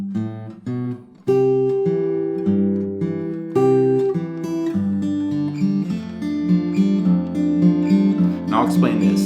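Acoustic guitar plays the Travis-picked intro of a song slowly and clearly, alternating bass notes under picked melody notes, close and alone.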